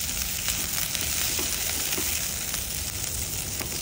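Onion sizzling in hot oil while seasoning a Taiwan-made wok, giving a continuous dense crackling hiss at steady loudness, close up, with no voices.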